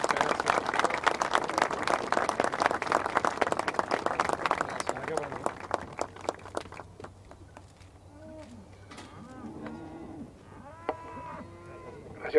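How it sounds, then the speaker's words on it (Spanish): Brief audience applause at an Argentine cattle event, clapping for several seconds that fades out, followed by cattle mooing and people talking. "un aplauso para Jauregui Lorda"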